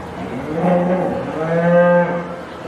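Cattle moo at a 4H fair steer show, two long, loud, close lowing calls one after the other, with no talk over them.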